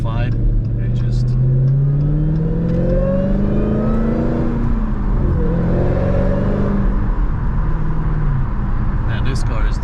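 A Dodge Hellcat in track mode, its engine revving and rising through the gears while being driven, heard loud and close from inside the car with someone talking over it.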